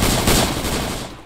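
Dense, loud automatic gunfire roars in Arma 3 during a Vietnam-setting firefight, a continuous rattling burst that fades toward the end.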